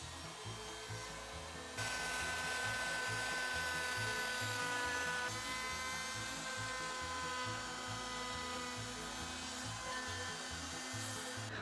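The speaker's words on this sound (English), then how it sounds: "just attach that bit to my router and go to town" An electric router fitted with a 45-degree bit cuts wood in a steady, continuous grinding whine with a rough rasping texture, sustained and fairly close without pauses.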